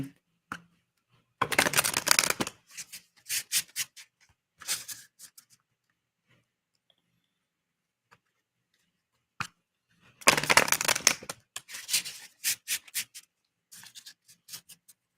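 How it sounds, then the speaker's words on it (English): Tarot card decks are shuffled by hand in several separate bursts of crisp riffling and rapid flicking, each lasting a second or two, with near silence between them. "Shuffle our other decks that haven't had any love yet"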